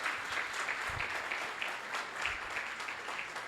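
Church congregation clapping in a steady, continuous patter of applause that fills the space at moderate level, with no other sounds standing out.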